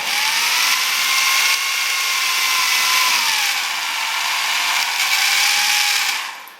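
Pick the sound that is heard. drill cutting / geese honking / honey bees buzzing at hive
drill cutting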